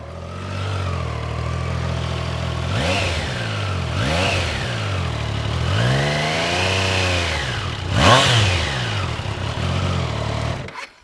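A Triumph Tiger 660 motorcycle engine idles and is revved repeatedly, each blip rising and falling in pitch over a steady close-up idle, ending with one stronger rev.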